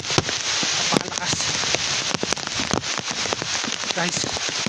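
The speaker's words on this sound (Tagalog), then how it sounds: "Lakas ng ulan." Heavy rain on a mountain during a typhoon, pounding down with loud, dense hiss and sharp spatters of drops hitting nearby surfaces, a voice faintly mixed in.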